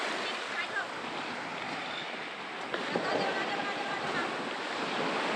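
Ocean waves on a white-sand beach at Neil Island in the Andamans as the tide rises, a steady broadband wash with wind noise and no talk.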